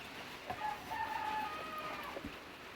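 Broody Silkie hens make low, soft clucking sounds close by, with a few brief higher calls that come and go over a quiet background.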